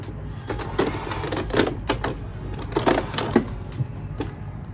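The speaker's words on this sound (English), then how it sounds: "we are going for a wide stitch, so put this on the maximum on your machine" A domestic sewing machine runs in short bursts on a wide stitch setting for hemming, producing a loud, uneven series of rattling, clacking stitch runs with brief pauses between them.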